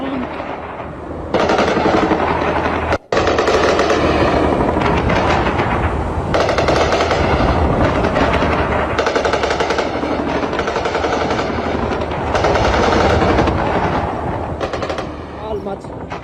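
Heavy, sustained gunfire from fighting in Lebanon, with loud continuous bursts of machine-gun fire and overlapping shots that fill the whole stretch and break only once.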